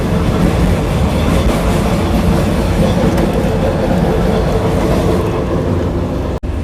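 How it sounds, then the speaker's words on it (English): Loud, continuous rumble and rattle of a Cambodian train carriage rolling over rails, with steady clattering throughout and a sharp click near the end. "let me give you a little tour of this train"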